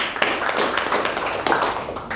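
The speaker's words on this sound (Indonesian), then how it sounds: "Tepuk tangan untuk pertanyaan ya." Audience applause in an entrepreneurship class after a question is asked, a brief burst of scattered claps and taps at moderate level, steady for about two seconds with no one talking over it.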